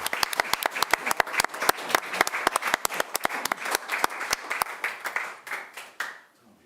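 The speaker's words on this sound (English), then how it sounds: "let's give them a round of applause as they make their way here" Applause at a city council meeting, with a small group's individual claps sounding crisp and distinct at a quick, uneven pace, then thinning and fading out at the end.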